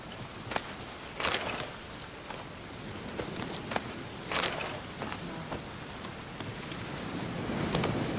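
Steady rain falls in the video game The Witcher 3 as a dense, continuous hiss, broken by scattered sharp taps and brief louder splashes throughout.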